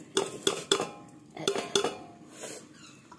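Chopped green chilli and onion tipped into a bowl of chopped kamri greens, giving several sharp, close clinks and clatters of utensils against dishware, followed by softer stirring rustles, with no talk.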